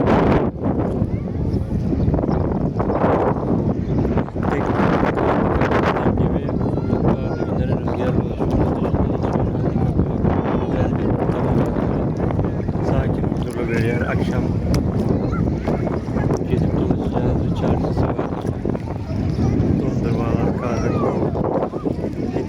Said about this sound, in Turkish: Çok kuvvetli bir rüzgar oluyor burada.